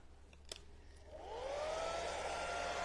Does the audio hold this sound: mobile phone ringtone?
no